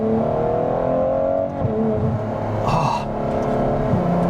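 A Ferrari F12 TDF's V12 engine at a Caffeine and Carburetors car meet, heard from the driver's seat with a loud steady drone and a brief lift around the middle before pulling on strongly again.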